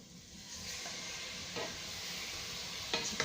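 Chicken with masala sizzles in a pan for a majboos dish, a soft steady hiss broken by a few scraping stirs and a sharper clink near the end, with no voices.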